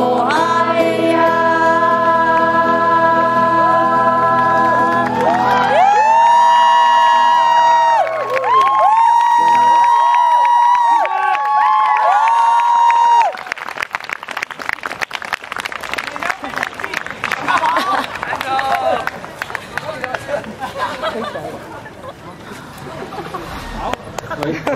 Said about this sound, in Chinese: 我们再一次掌声